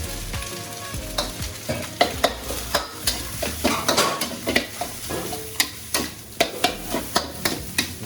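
String hopper kottu sizzles in a hot pan while a metal utensil stirs and scrapes it, producing a continuous frying hiss broken by repeated sharp clanks and taps, close up.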